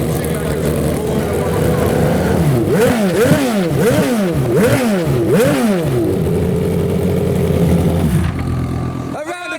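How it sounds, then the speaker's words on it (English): The Cosworth V8 in Michael Schumacher's Formula 1 car blips repeatedly, sharp rising and falling revs in a quick rhythm over a loud idle, close and dominant, before cutting off; voices sound faintly underneath. "So that is the sound of a Cosworth V8 in Michael Schumacher's."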